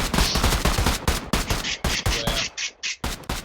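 AK rifle gunfire in a video game, rapid loud automatic bursts of sharp cracks coming in choppy groups separated by short gaps, close and harsh.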